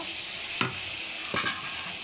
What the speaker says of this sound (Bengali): এবারে পটলগুলো দিয়ে দিলাম, ভালো মতো কষাইতে থাকবো।